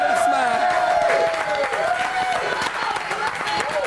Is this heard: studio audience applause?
yes